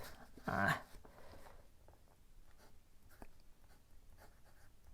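A Pilot Capless fountain pen nib scratches across paper, with soft, faint strokes and a louder brief scrape near the start, then quiet intermittent scratching.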